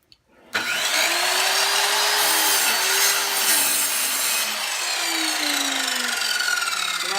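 Kobalt sliding compound miter saw spinning up with a whine, then cutting through a 1x8 wood board in a loud, sustained rasping roar, the motor pitch sagging under load and easing as the blade finishes.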